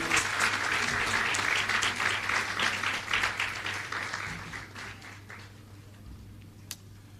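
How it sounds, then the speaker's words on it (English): Sustained applause from an audience at a credit union's annual general meeting, dense clapping at a steady loud level for several seconds before gradually thinning out and fading toward the end. "give him a bigger round of applause."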